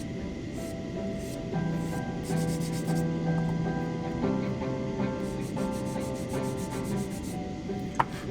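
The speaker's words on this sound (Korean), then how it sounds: "이 각도를 재생하기 위해서 신중하게 사포질합니다." Steady, fine abrasive rubbing strokes of sandpaper on a plastic Gunpla model part, close and continuous, with a faint rhythmic scratch over a constant background hum.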